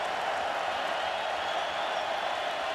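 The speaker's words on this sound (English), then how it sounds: "Crowd gets loud on third down and 6." A large college football stadium crowd roars steadily on third down, a dense, unbroken wash of cheering and noise with no pauses.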